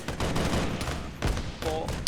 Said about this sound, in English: he's firing all the way at these guys over here, which they are shooting